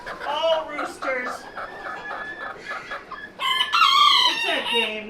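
Roosters crow and chickens cluck steadily in a pen holding silkies, the crowing rising loud and near toward the end over ongoing clucking.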